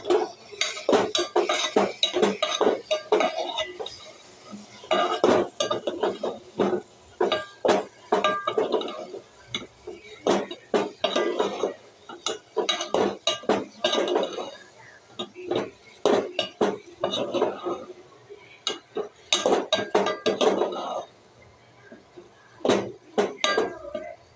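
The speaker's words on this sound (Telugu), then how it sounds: "ఈ టమాటా వేసి కలిపిన ఫ్రెండ్స్ చూడండి" Spoon stirring tomato into a brinjal and tomato curry in a metal pan, with repeated clinks and scrapes of utensil on the pan in irregular bursts, close and fairly loud.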